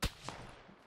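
A single sniper shot fired from far off in PUBG, heard as one sharp crack followed by a fading rolling echo, with no talking.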